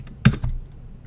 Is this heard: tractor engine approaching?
no